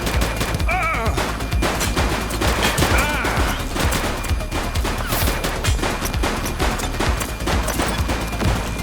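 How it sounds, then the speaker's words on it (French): Dense, sustained gunfire from the police video game The Precinct, rapid overlapping shots and cracks crowding the whole stretch at high loudness, with a few shouted game voices mixed in. "Shots fired!"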